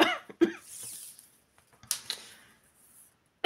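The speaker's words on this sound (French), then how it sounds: "c'est une toux de stress" A woman's nervous cough sounds in a quiet indoor room during a cross-stitch kit unboxing, with a few short coughs and throat sounds at the start and a second burst partway through, close and clear.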